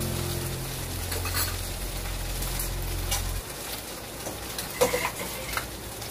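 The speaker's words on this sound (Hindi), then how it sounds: "तो चलिए इसको फ्राई होने देते हैं भिंडी को।" Okra (bhindi) frying in a pan, a steady close sizzle with occasional stirring clinks toward the end; a low hum runs underneath for the first half.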